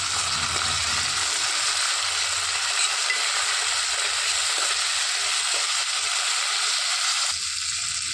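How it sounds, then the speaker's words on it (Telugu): Chopped tomato frying in a pan while cooking a flat bean curry, giving a steady, continuous sizzle close up with no talk, its lower rumble easing off for a stretch partway through. "ఇందులోనికి సన్నగా తరిగి పెట్టుకున్న ఒక టమాటాని వేసుకొని వేయించుకోవాలి."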